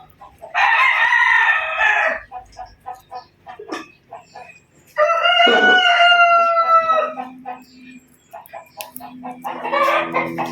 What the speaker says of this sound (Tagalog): Uy, manok na talaok.